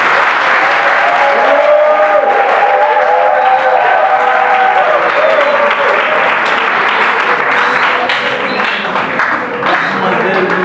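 A crowd claps steadily and loudly at a wedding ceremony in Dolisie, dense applause sustained throughout with voices and cheers mixed in.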